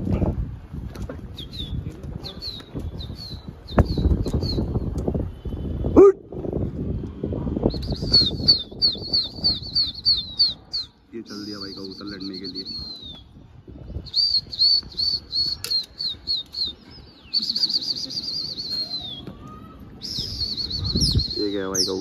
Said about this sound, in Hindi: तो भाई अब कबूतर इनसे लड़ाएंगे।